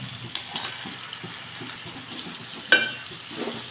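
Tomato being stirred into a capsicum and potato curry in a hot pan, with a steady soft sizzle, scraping spoon strokes and one sharp clink of utensil on metal partway through.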